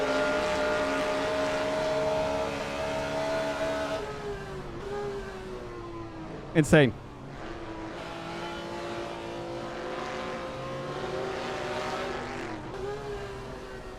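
A race car engine roars steadily at high revs in Assetto Corsa, with a loud Corvette whooshing past midway. A brief exclamation is spoken.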